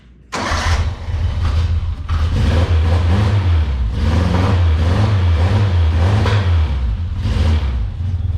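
A car engine bursts to life and is blipped repeatedly as the throttle is worked, loud and close, its low rumble rising and falling in several revving surges with the air cleaner fitted.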